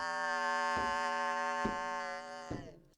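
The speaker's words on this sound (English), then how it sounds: "the original notes have been kind of erased by the ring modulation process" A guitar through a MoogerFooger MF102 ring modulator, with a harsh, metallic tone, a dense buzzy drone with three struck notes, ending in an abrupt cutoff.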